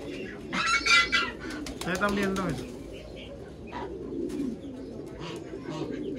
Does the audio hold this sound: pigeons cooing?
yes